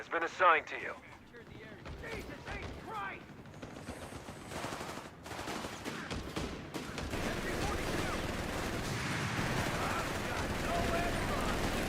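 Machine gun fire rattles through a Company of Heroes 3 tournament match amid dense battle noise of rapid bursts and other gunfire. A voice speaks briefly near the start.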